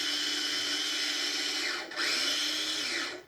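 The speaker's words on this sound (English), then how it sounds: "A pinch of salt into 1 cup of the oats, and just grind these up until they're very fine." A small blade grinder reduces oats with a pinch of salt to fine flour, a loud, steady, close whir that dips briefly partway through before resuming and then cutting off.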